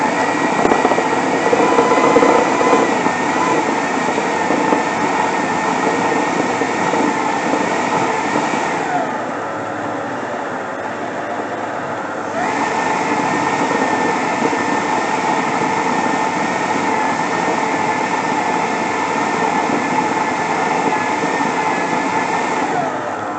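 An electric mincer grinds turkey crown meat with a continuous motor whine and churning rumble, steady for over twenty seconds with a short dip in pitch and load partway through.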